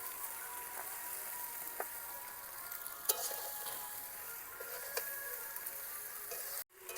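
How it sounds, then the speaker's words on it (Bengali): A spatula stirs egg pasta over low heat in a frying pan with a soft, constant sizzle and occasional light scrapes and taps against the metal, faint and close. "এই সময় একদম লো আছে কয়েক মিনিট মতন এটাকে নেড়ে নেব"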